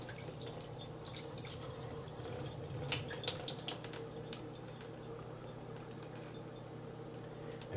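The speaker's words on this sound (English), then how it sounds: "And when you wash your rice, be careful." Rice being washed in water at a sink, with soft dripping, swishing and sloshing water over a steady low hum.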